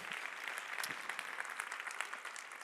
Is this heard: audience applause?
yes